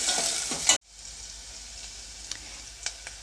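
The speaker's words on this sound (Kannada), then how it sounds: "ಈರುಳ್ಳಿ ಹಾಕಿದ ಮೇಲೆ ಒಂದು ನಿಮಿಷ ಚೆನ್ನಾಗಿ ಫ್ರೈ ಮಾಡ್ಕೊಳ್ಳಿ" Chopped onion fries in a pan for an okra sambar. A loud sizzling burst comes first, then a steady, softer crackling sizzle with a few sharp pops.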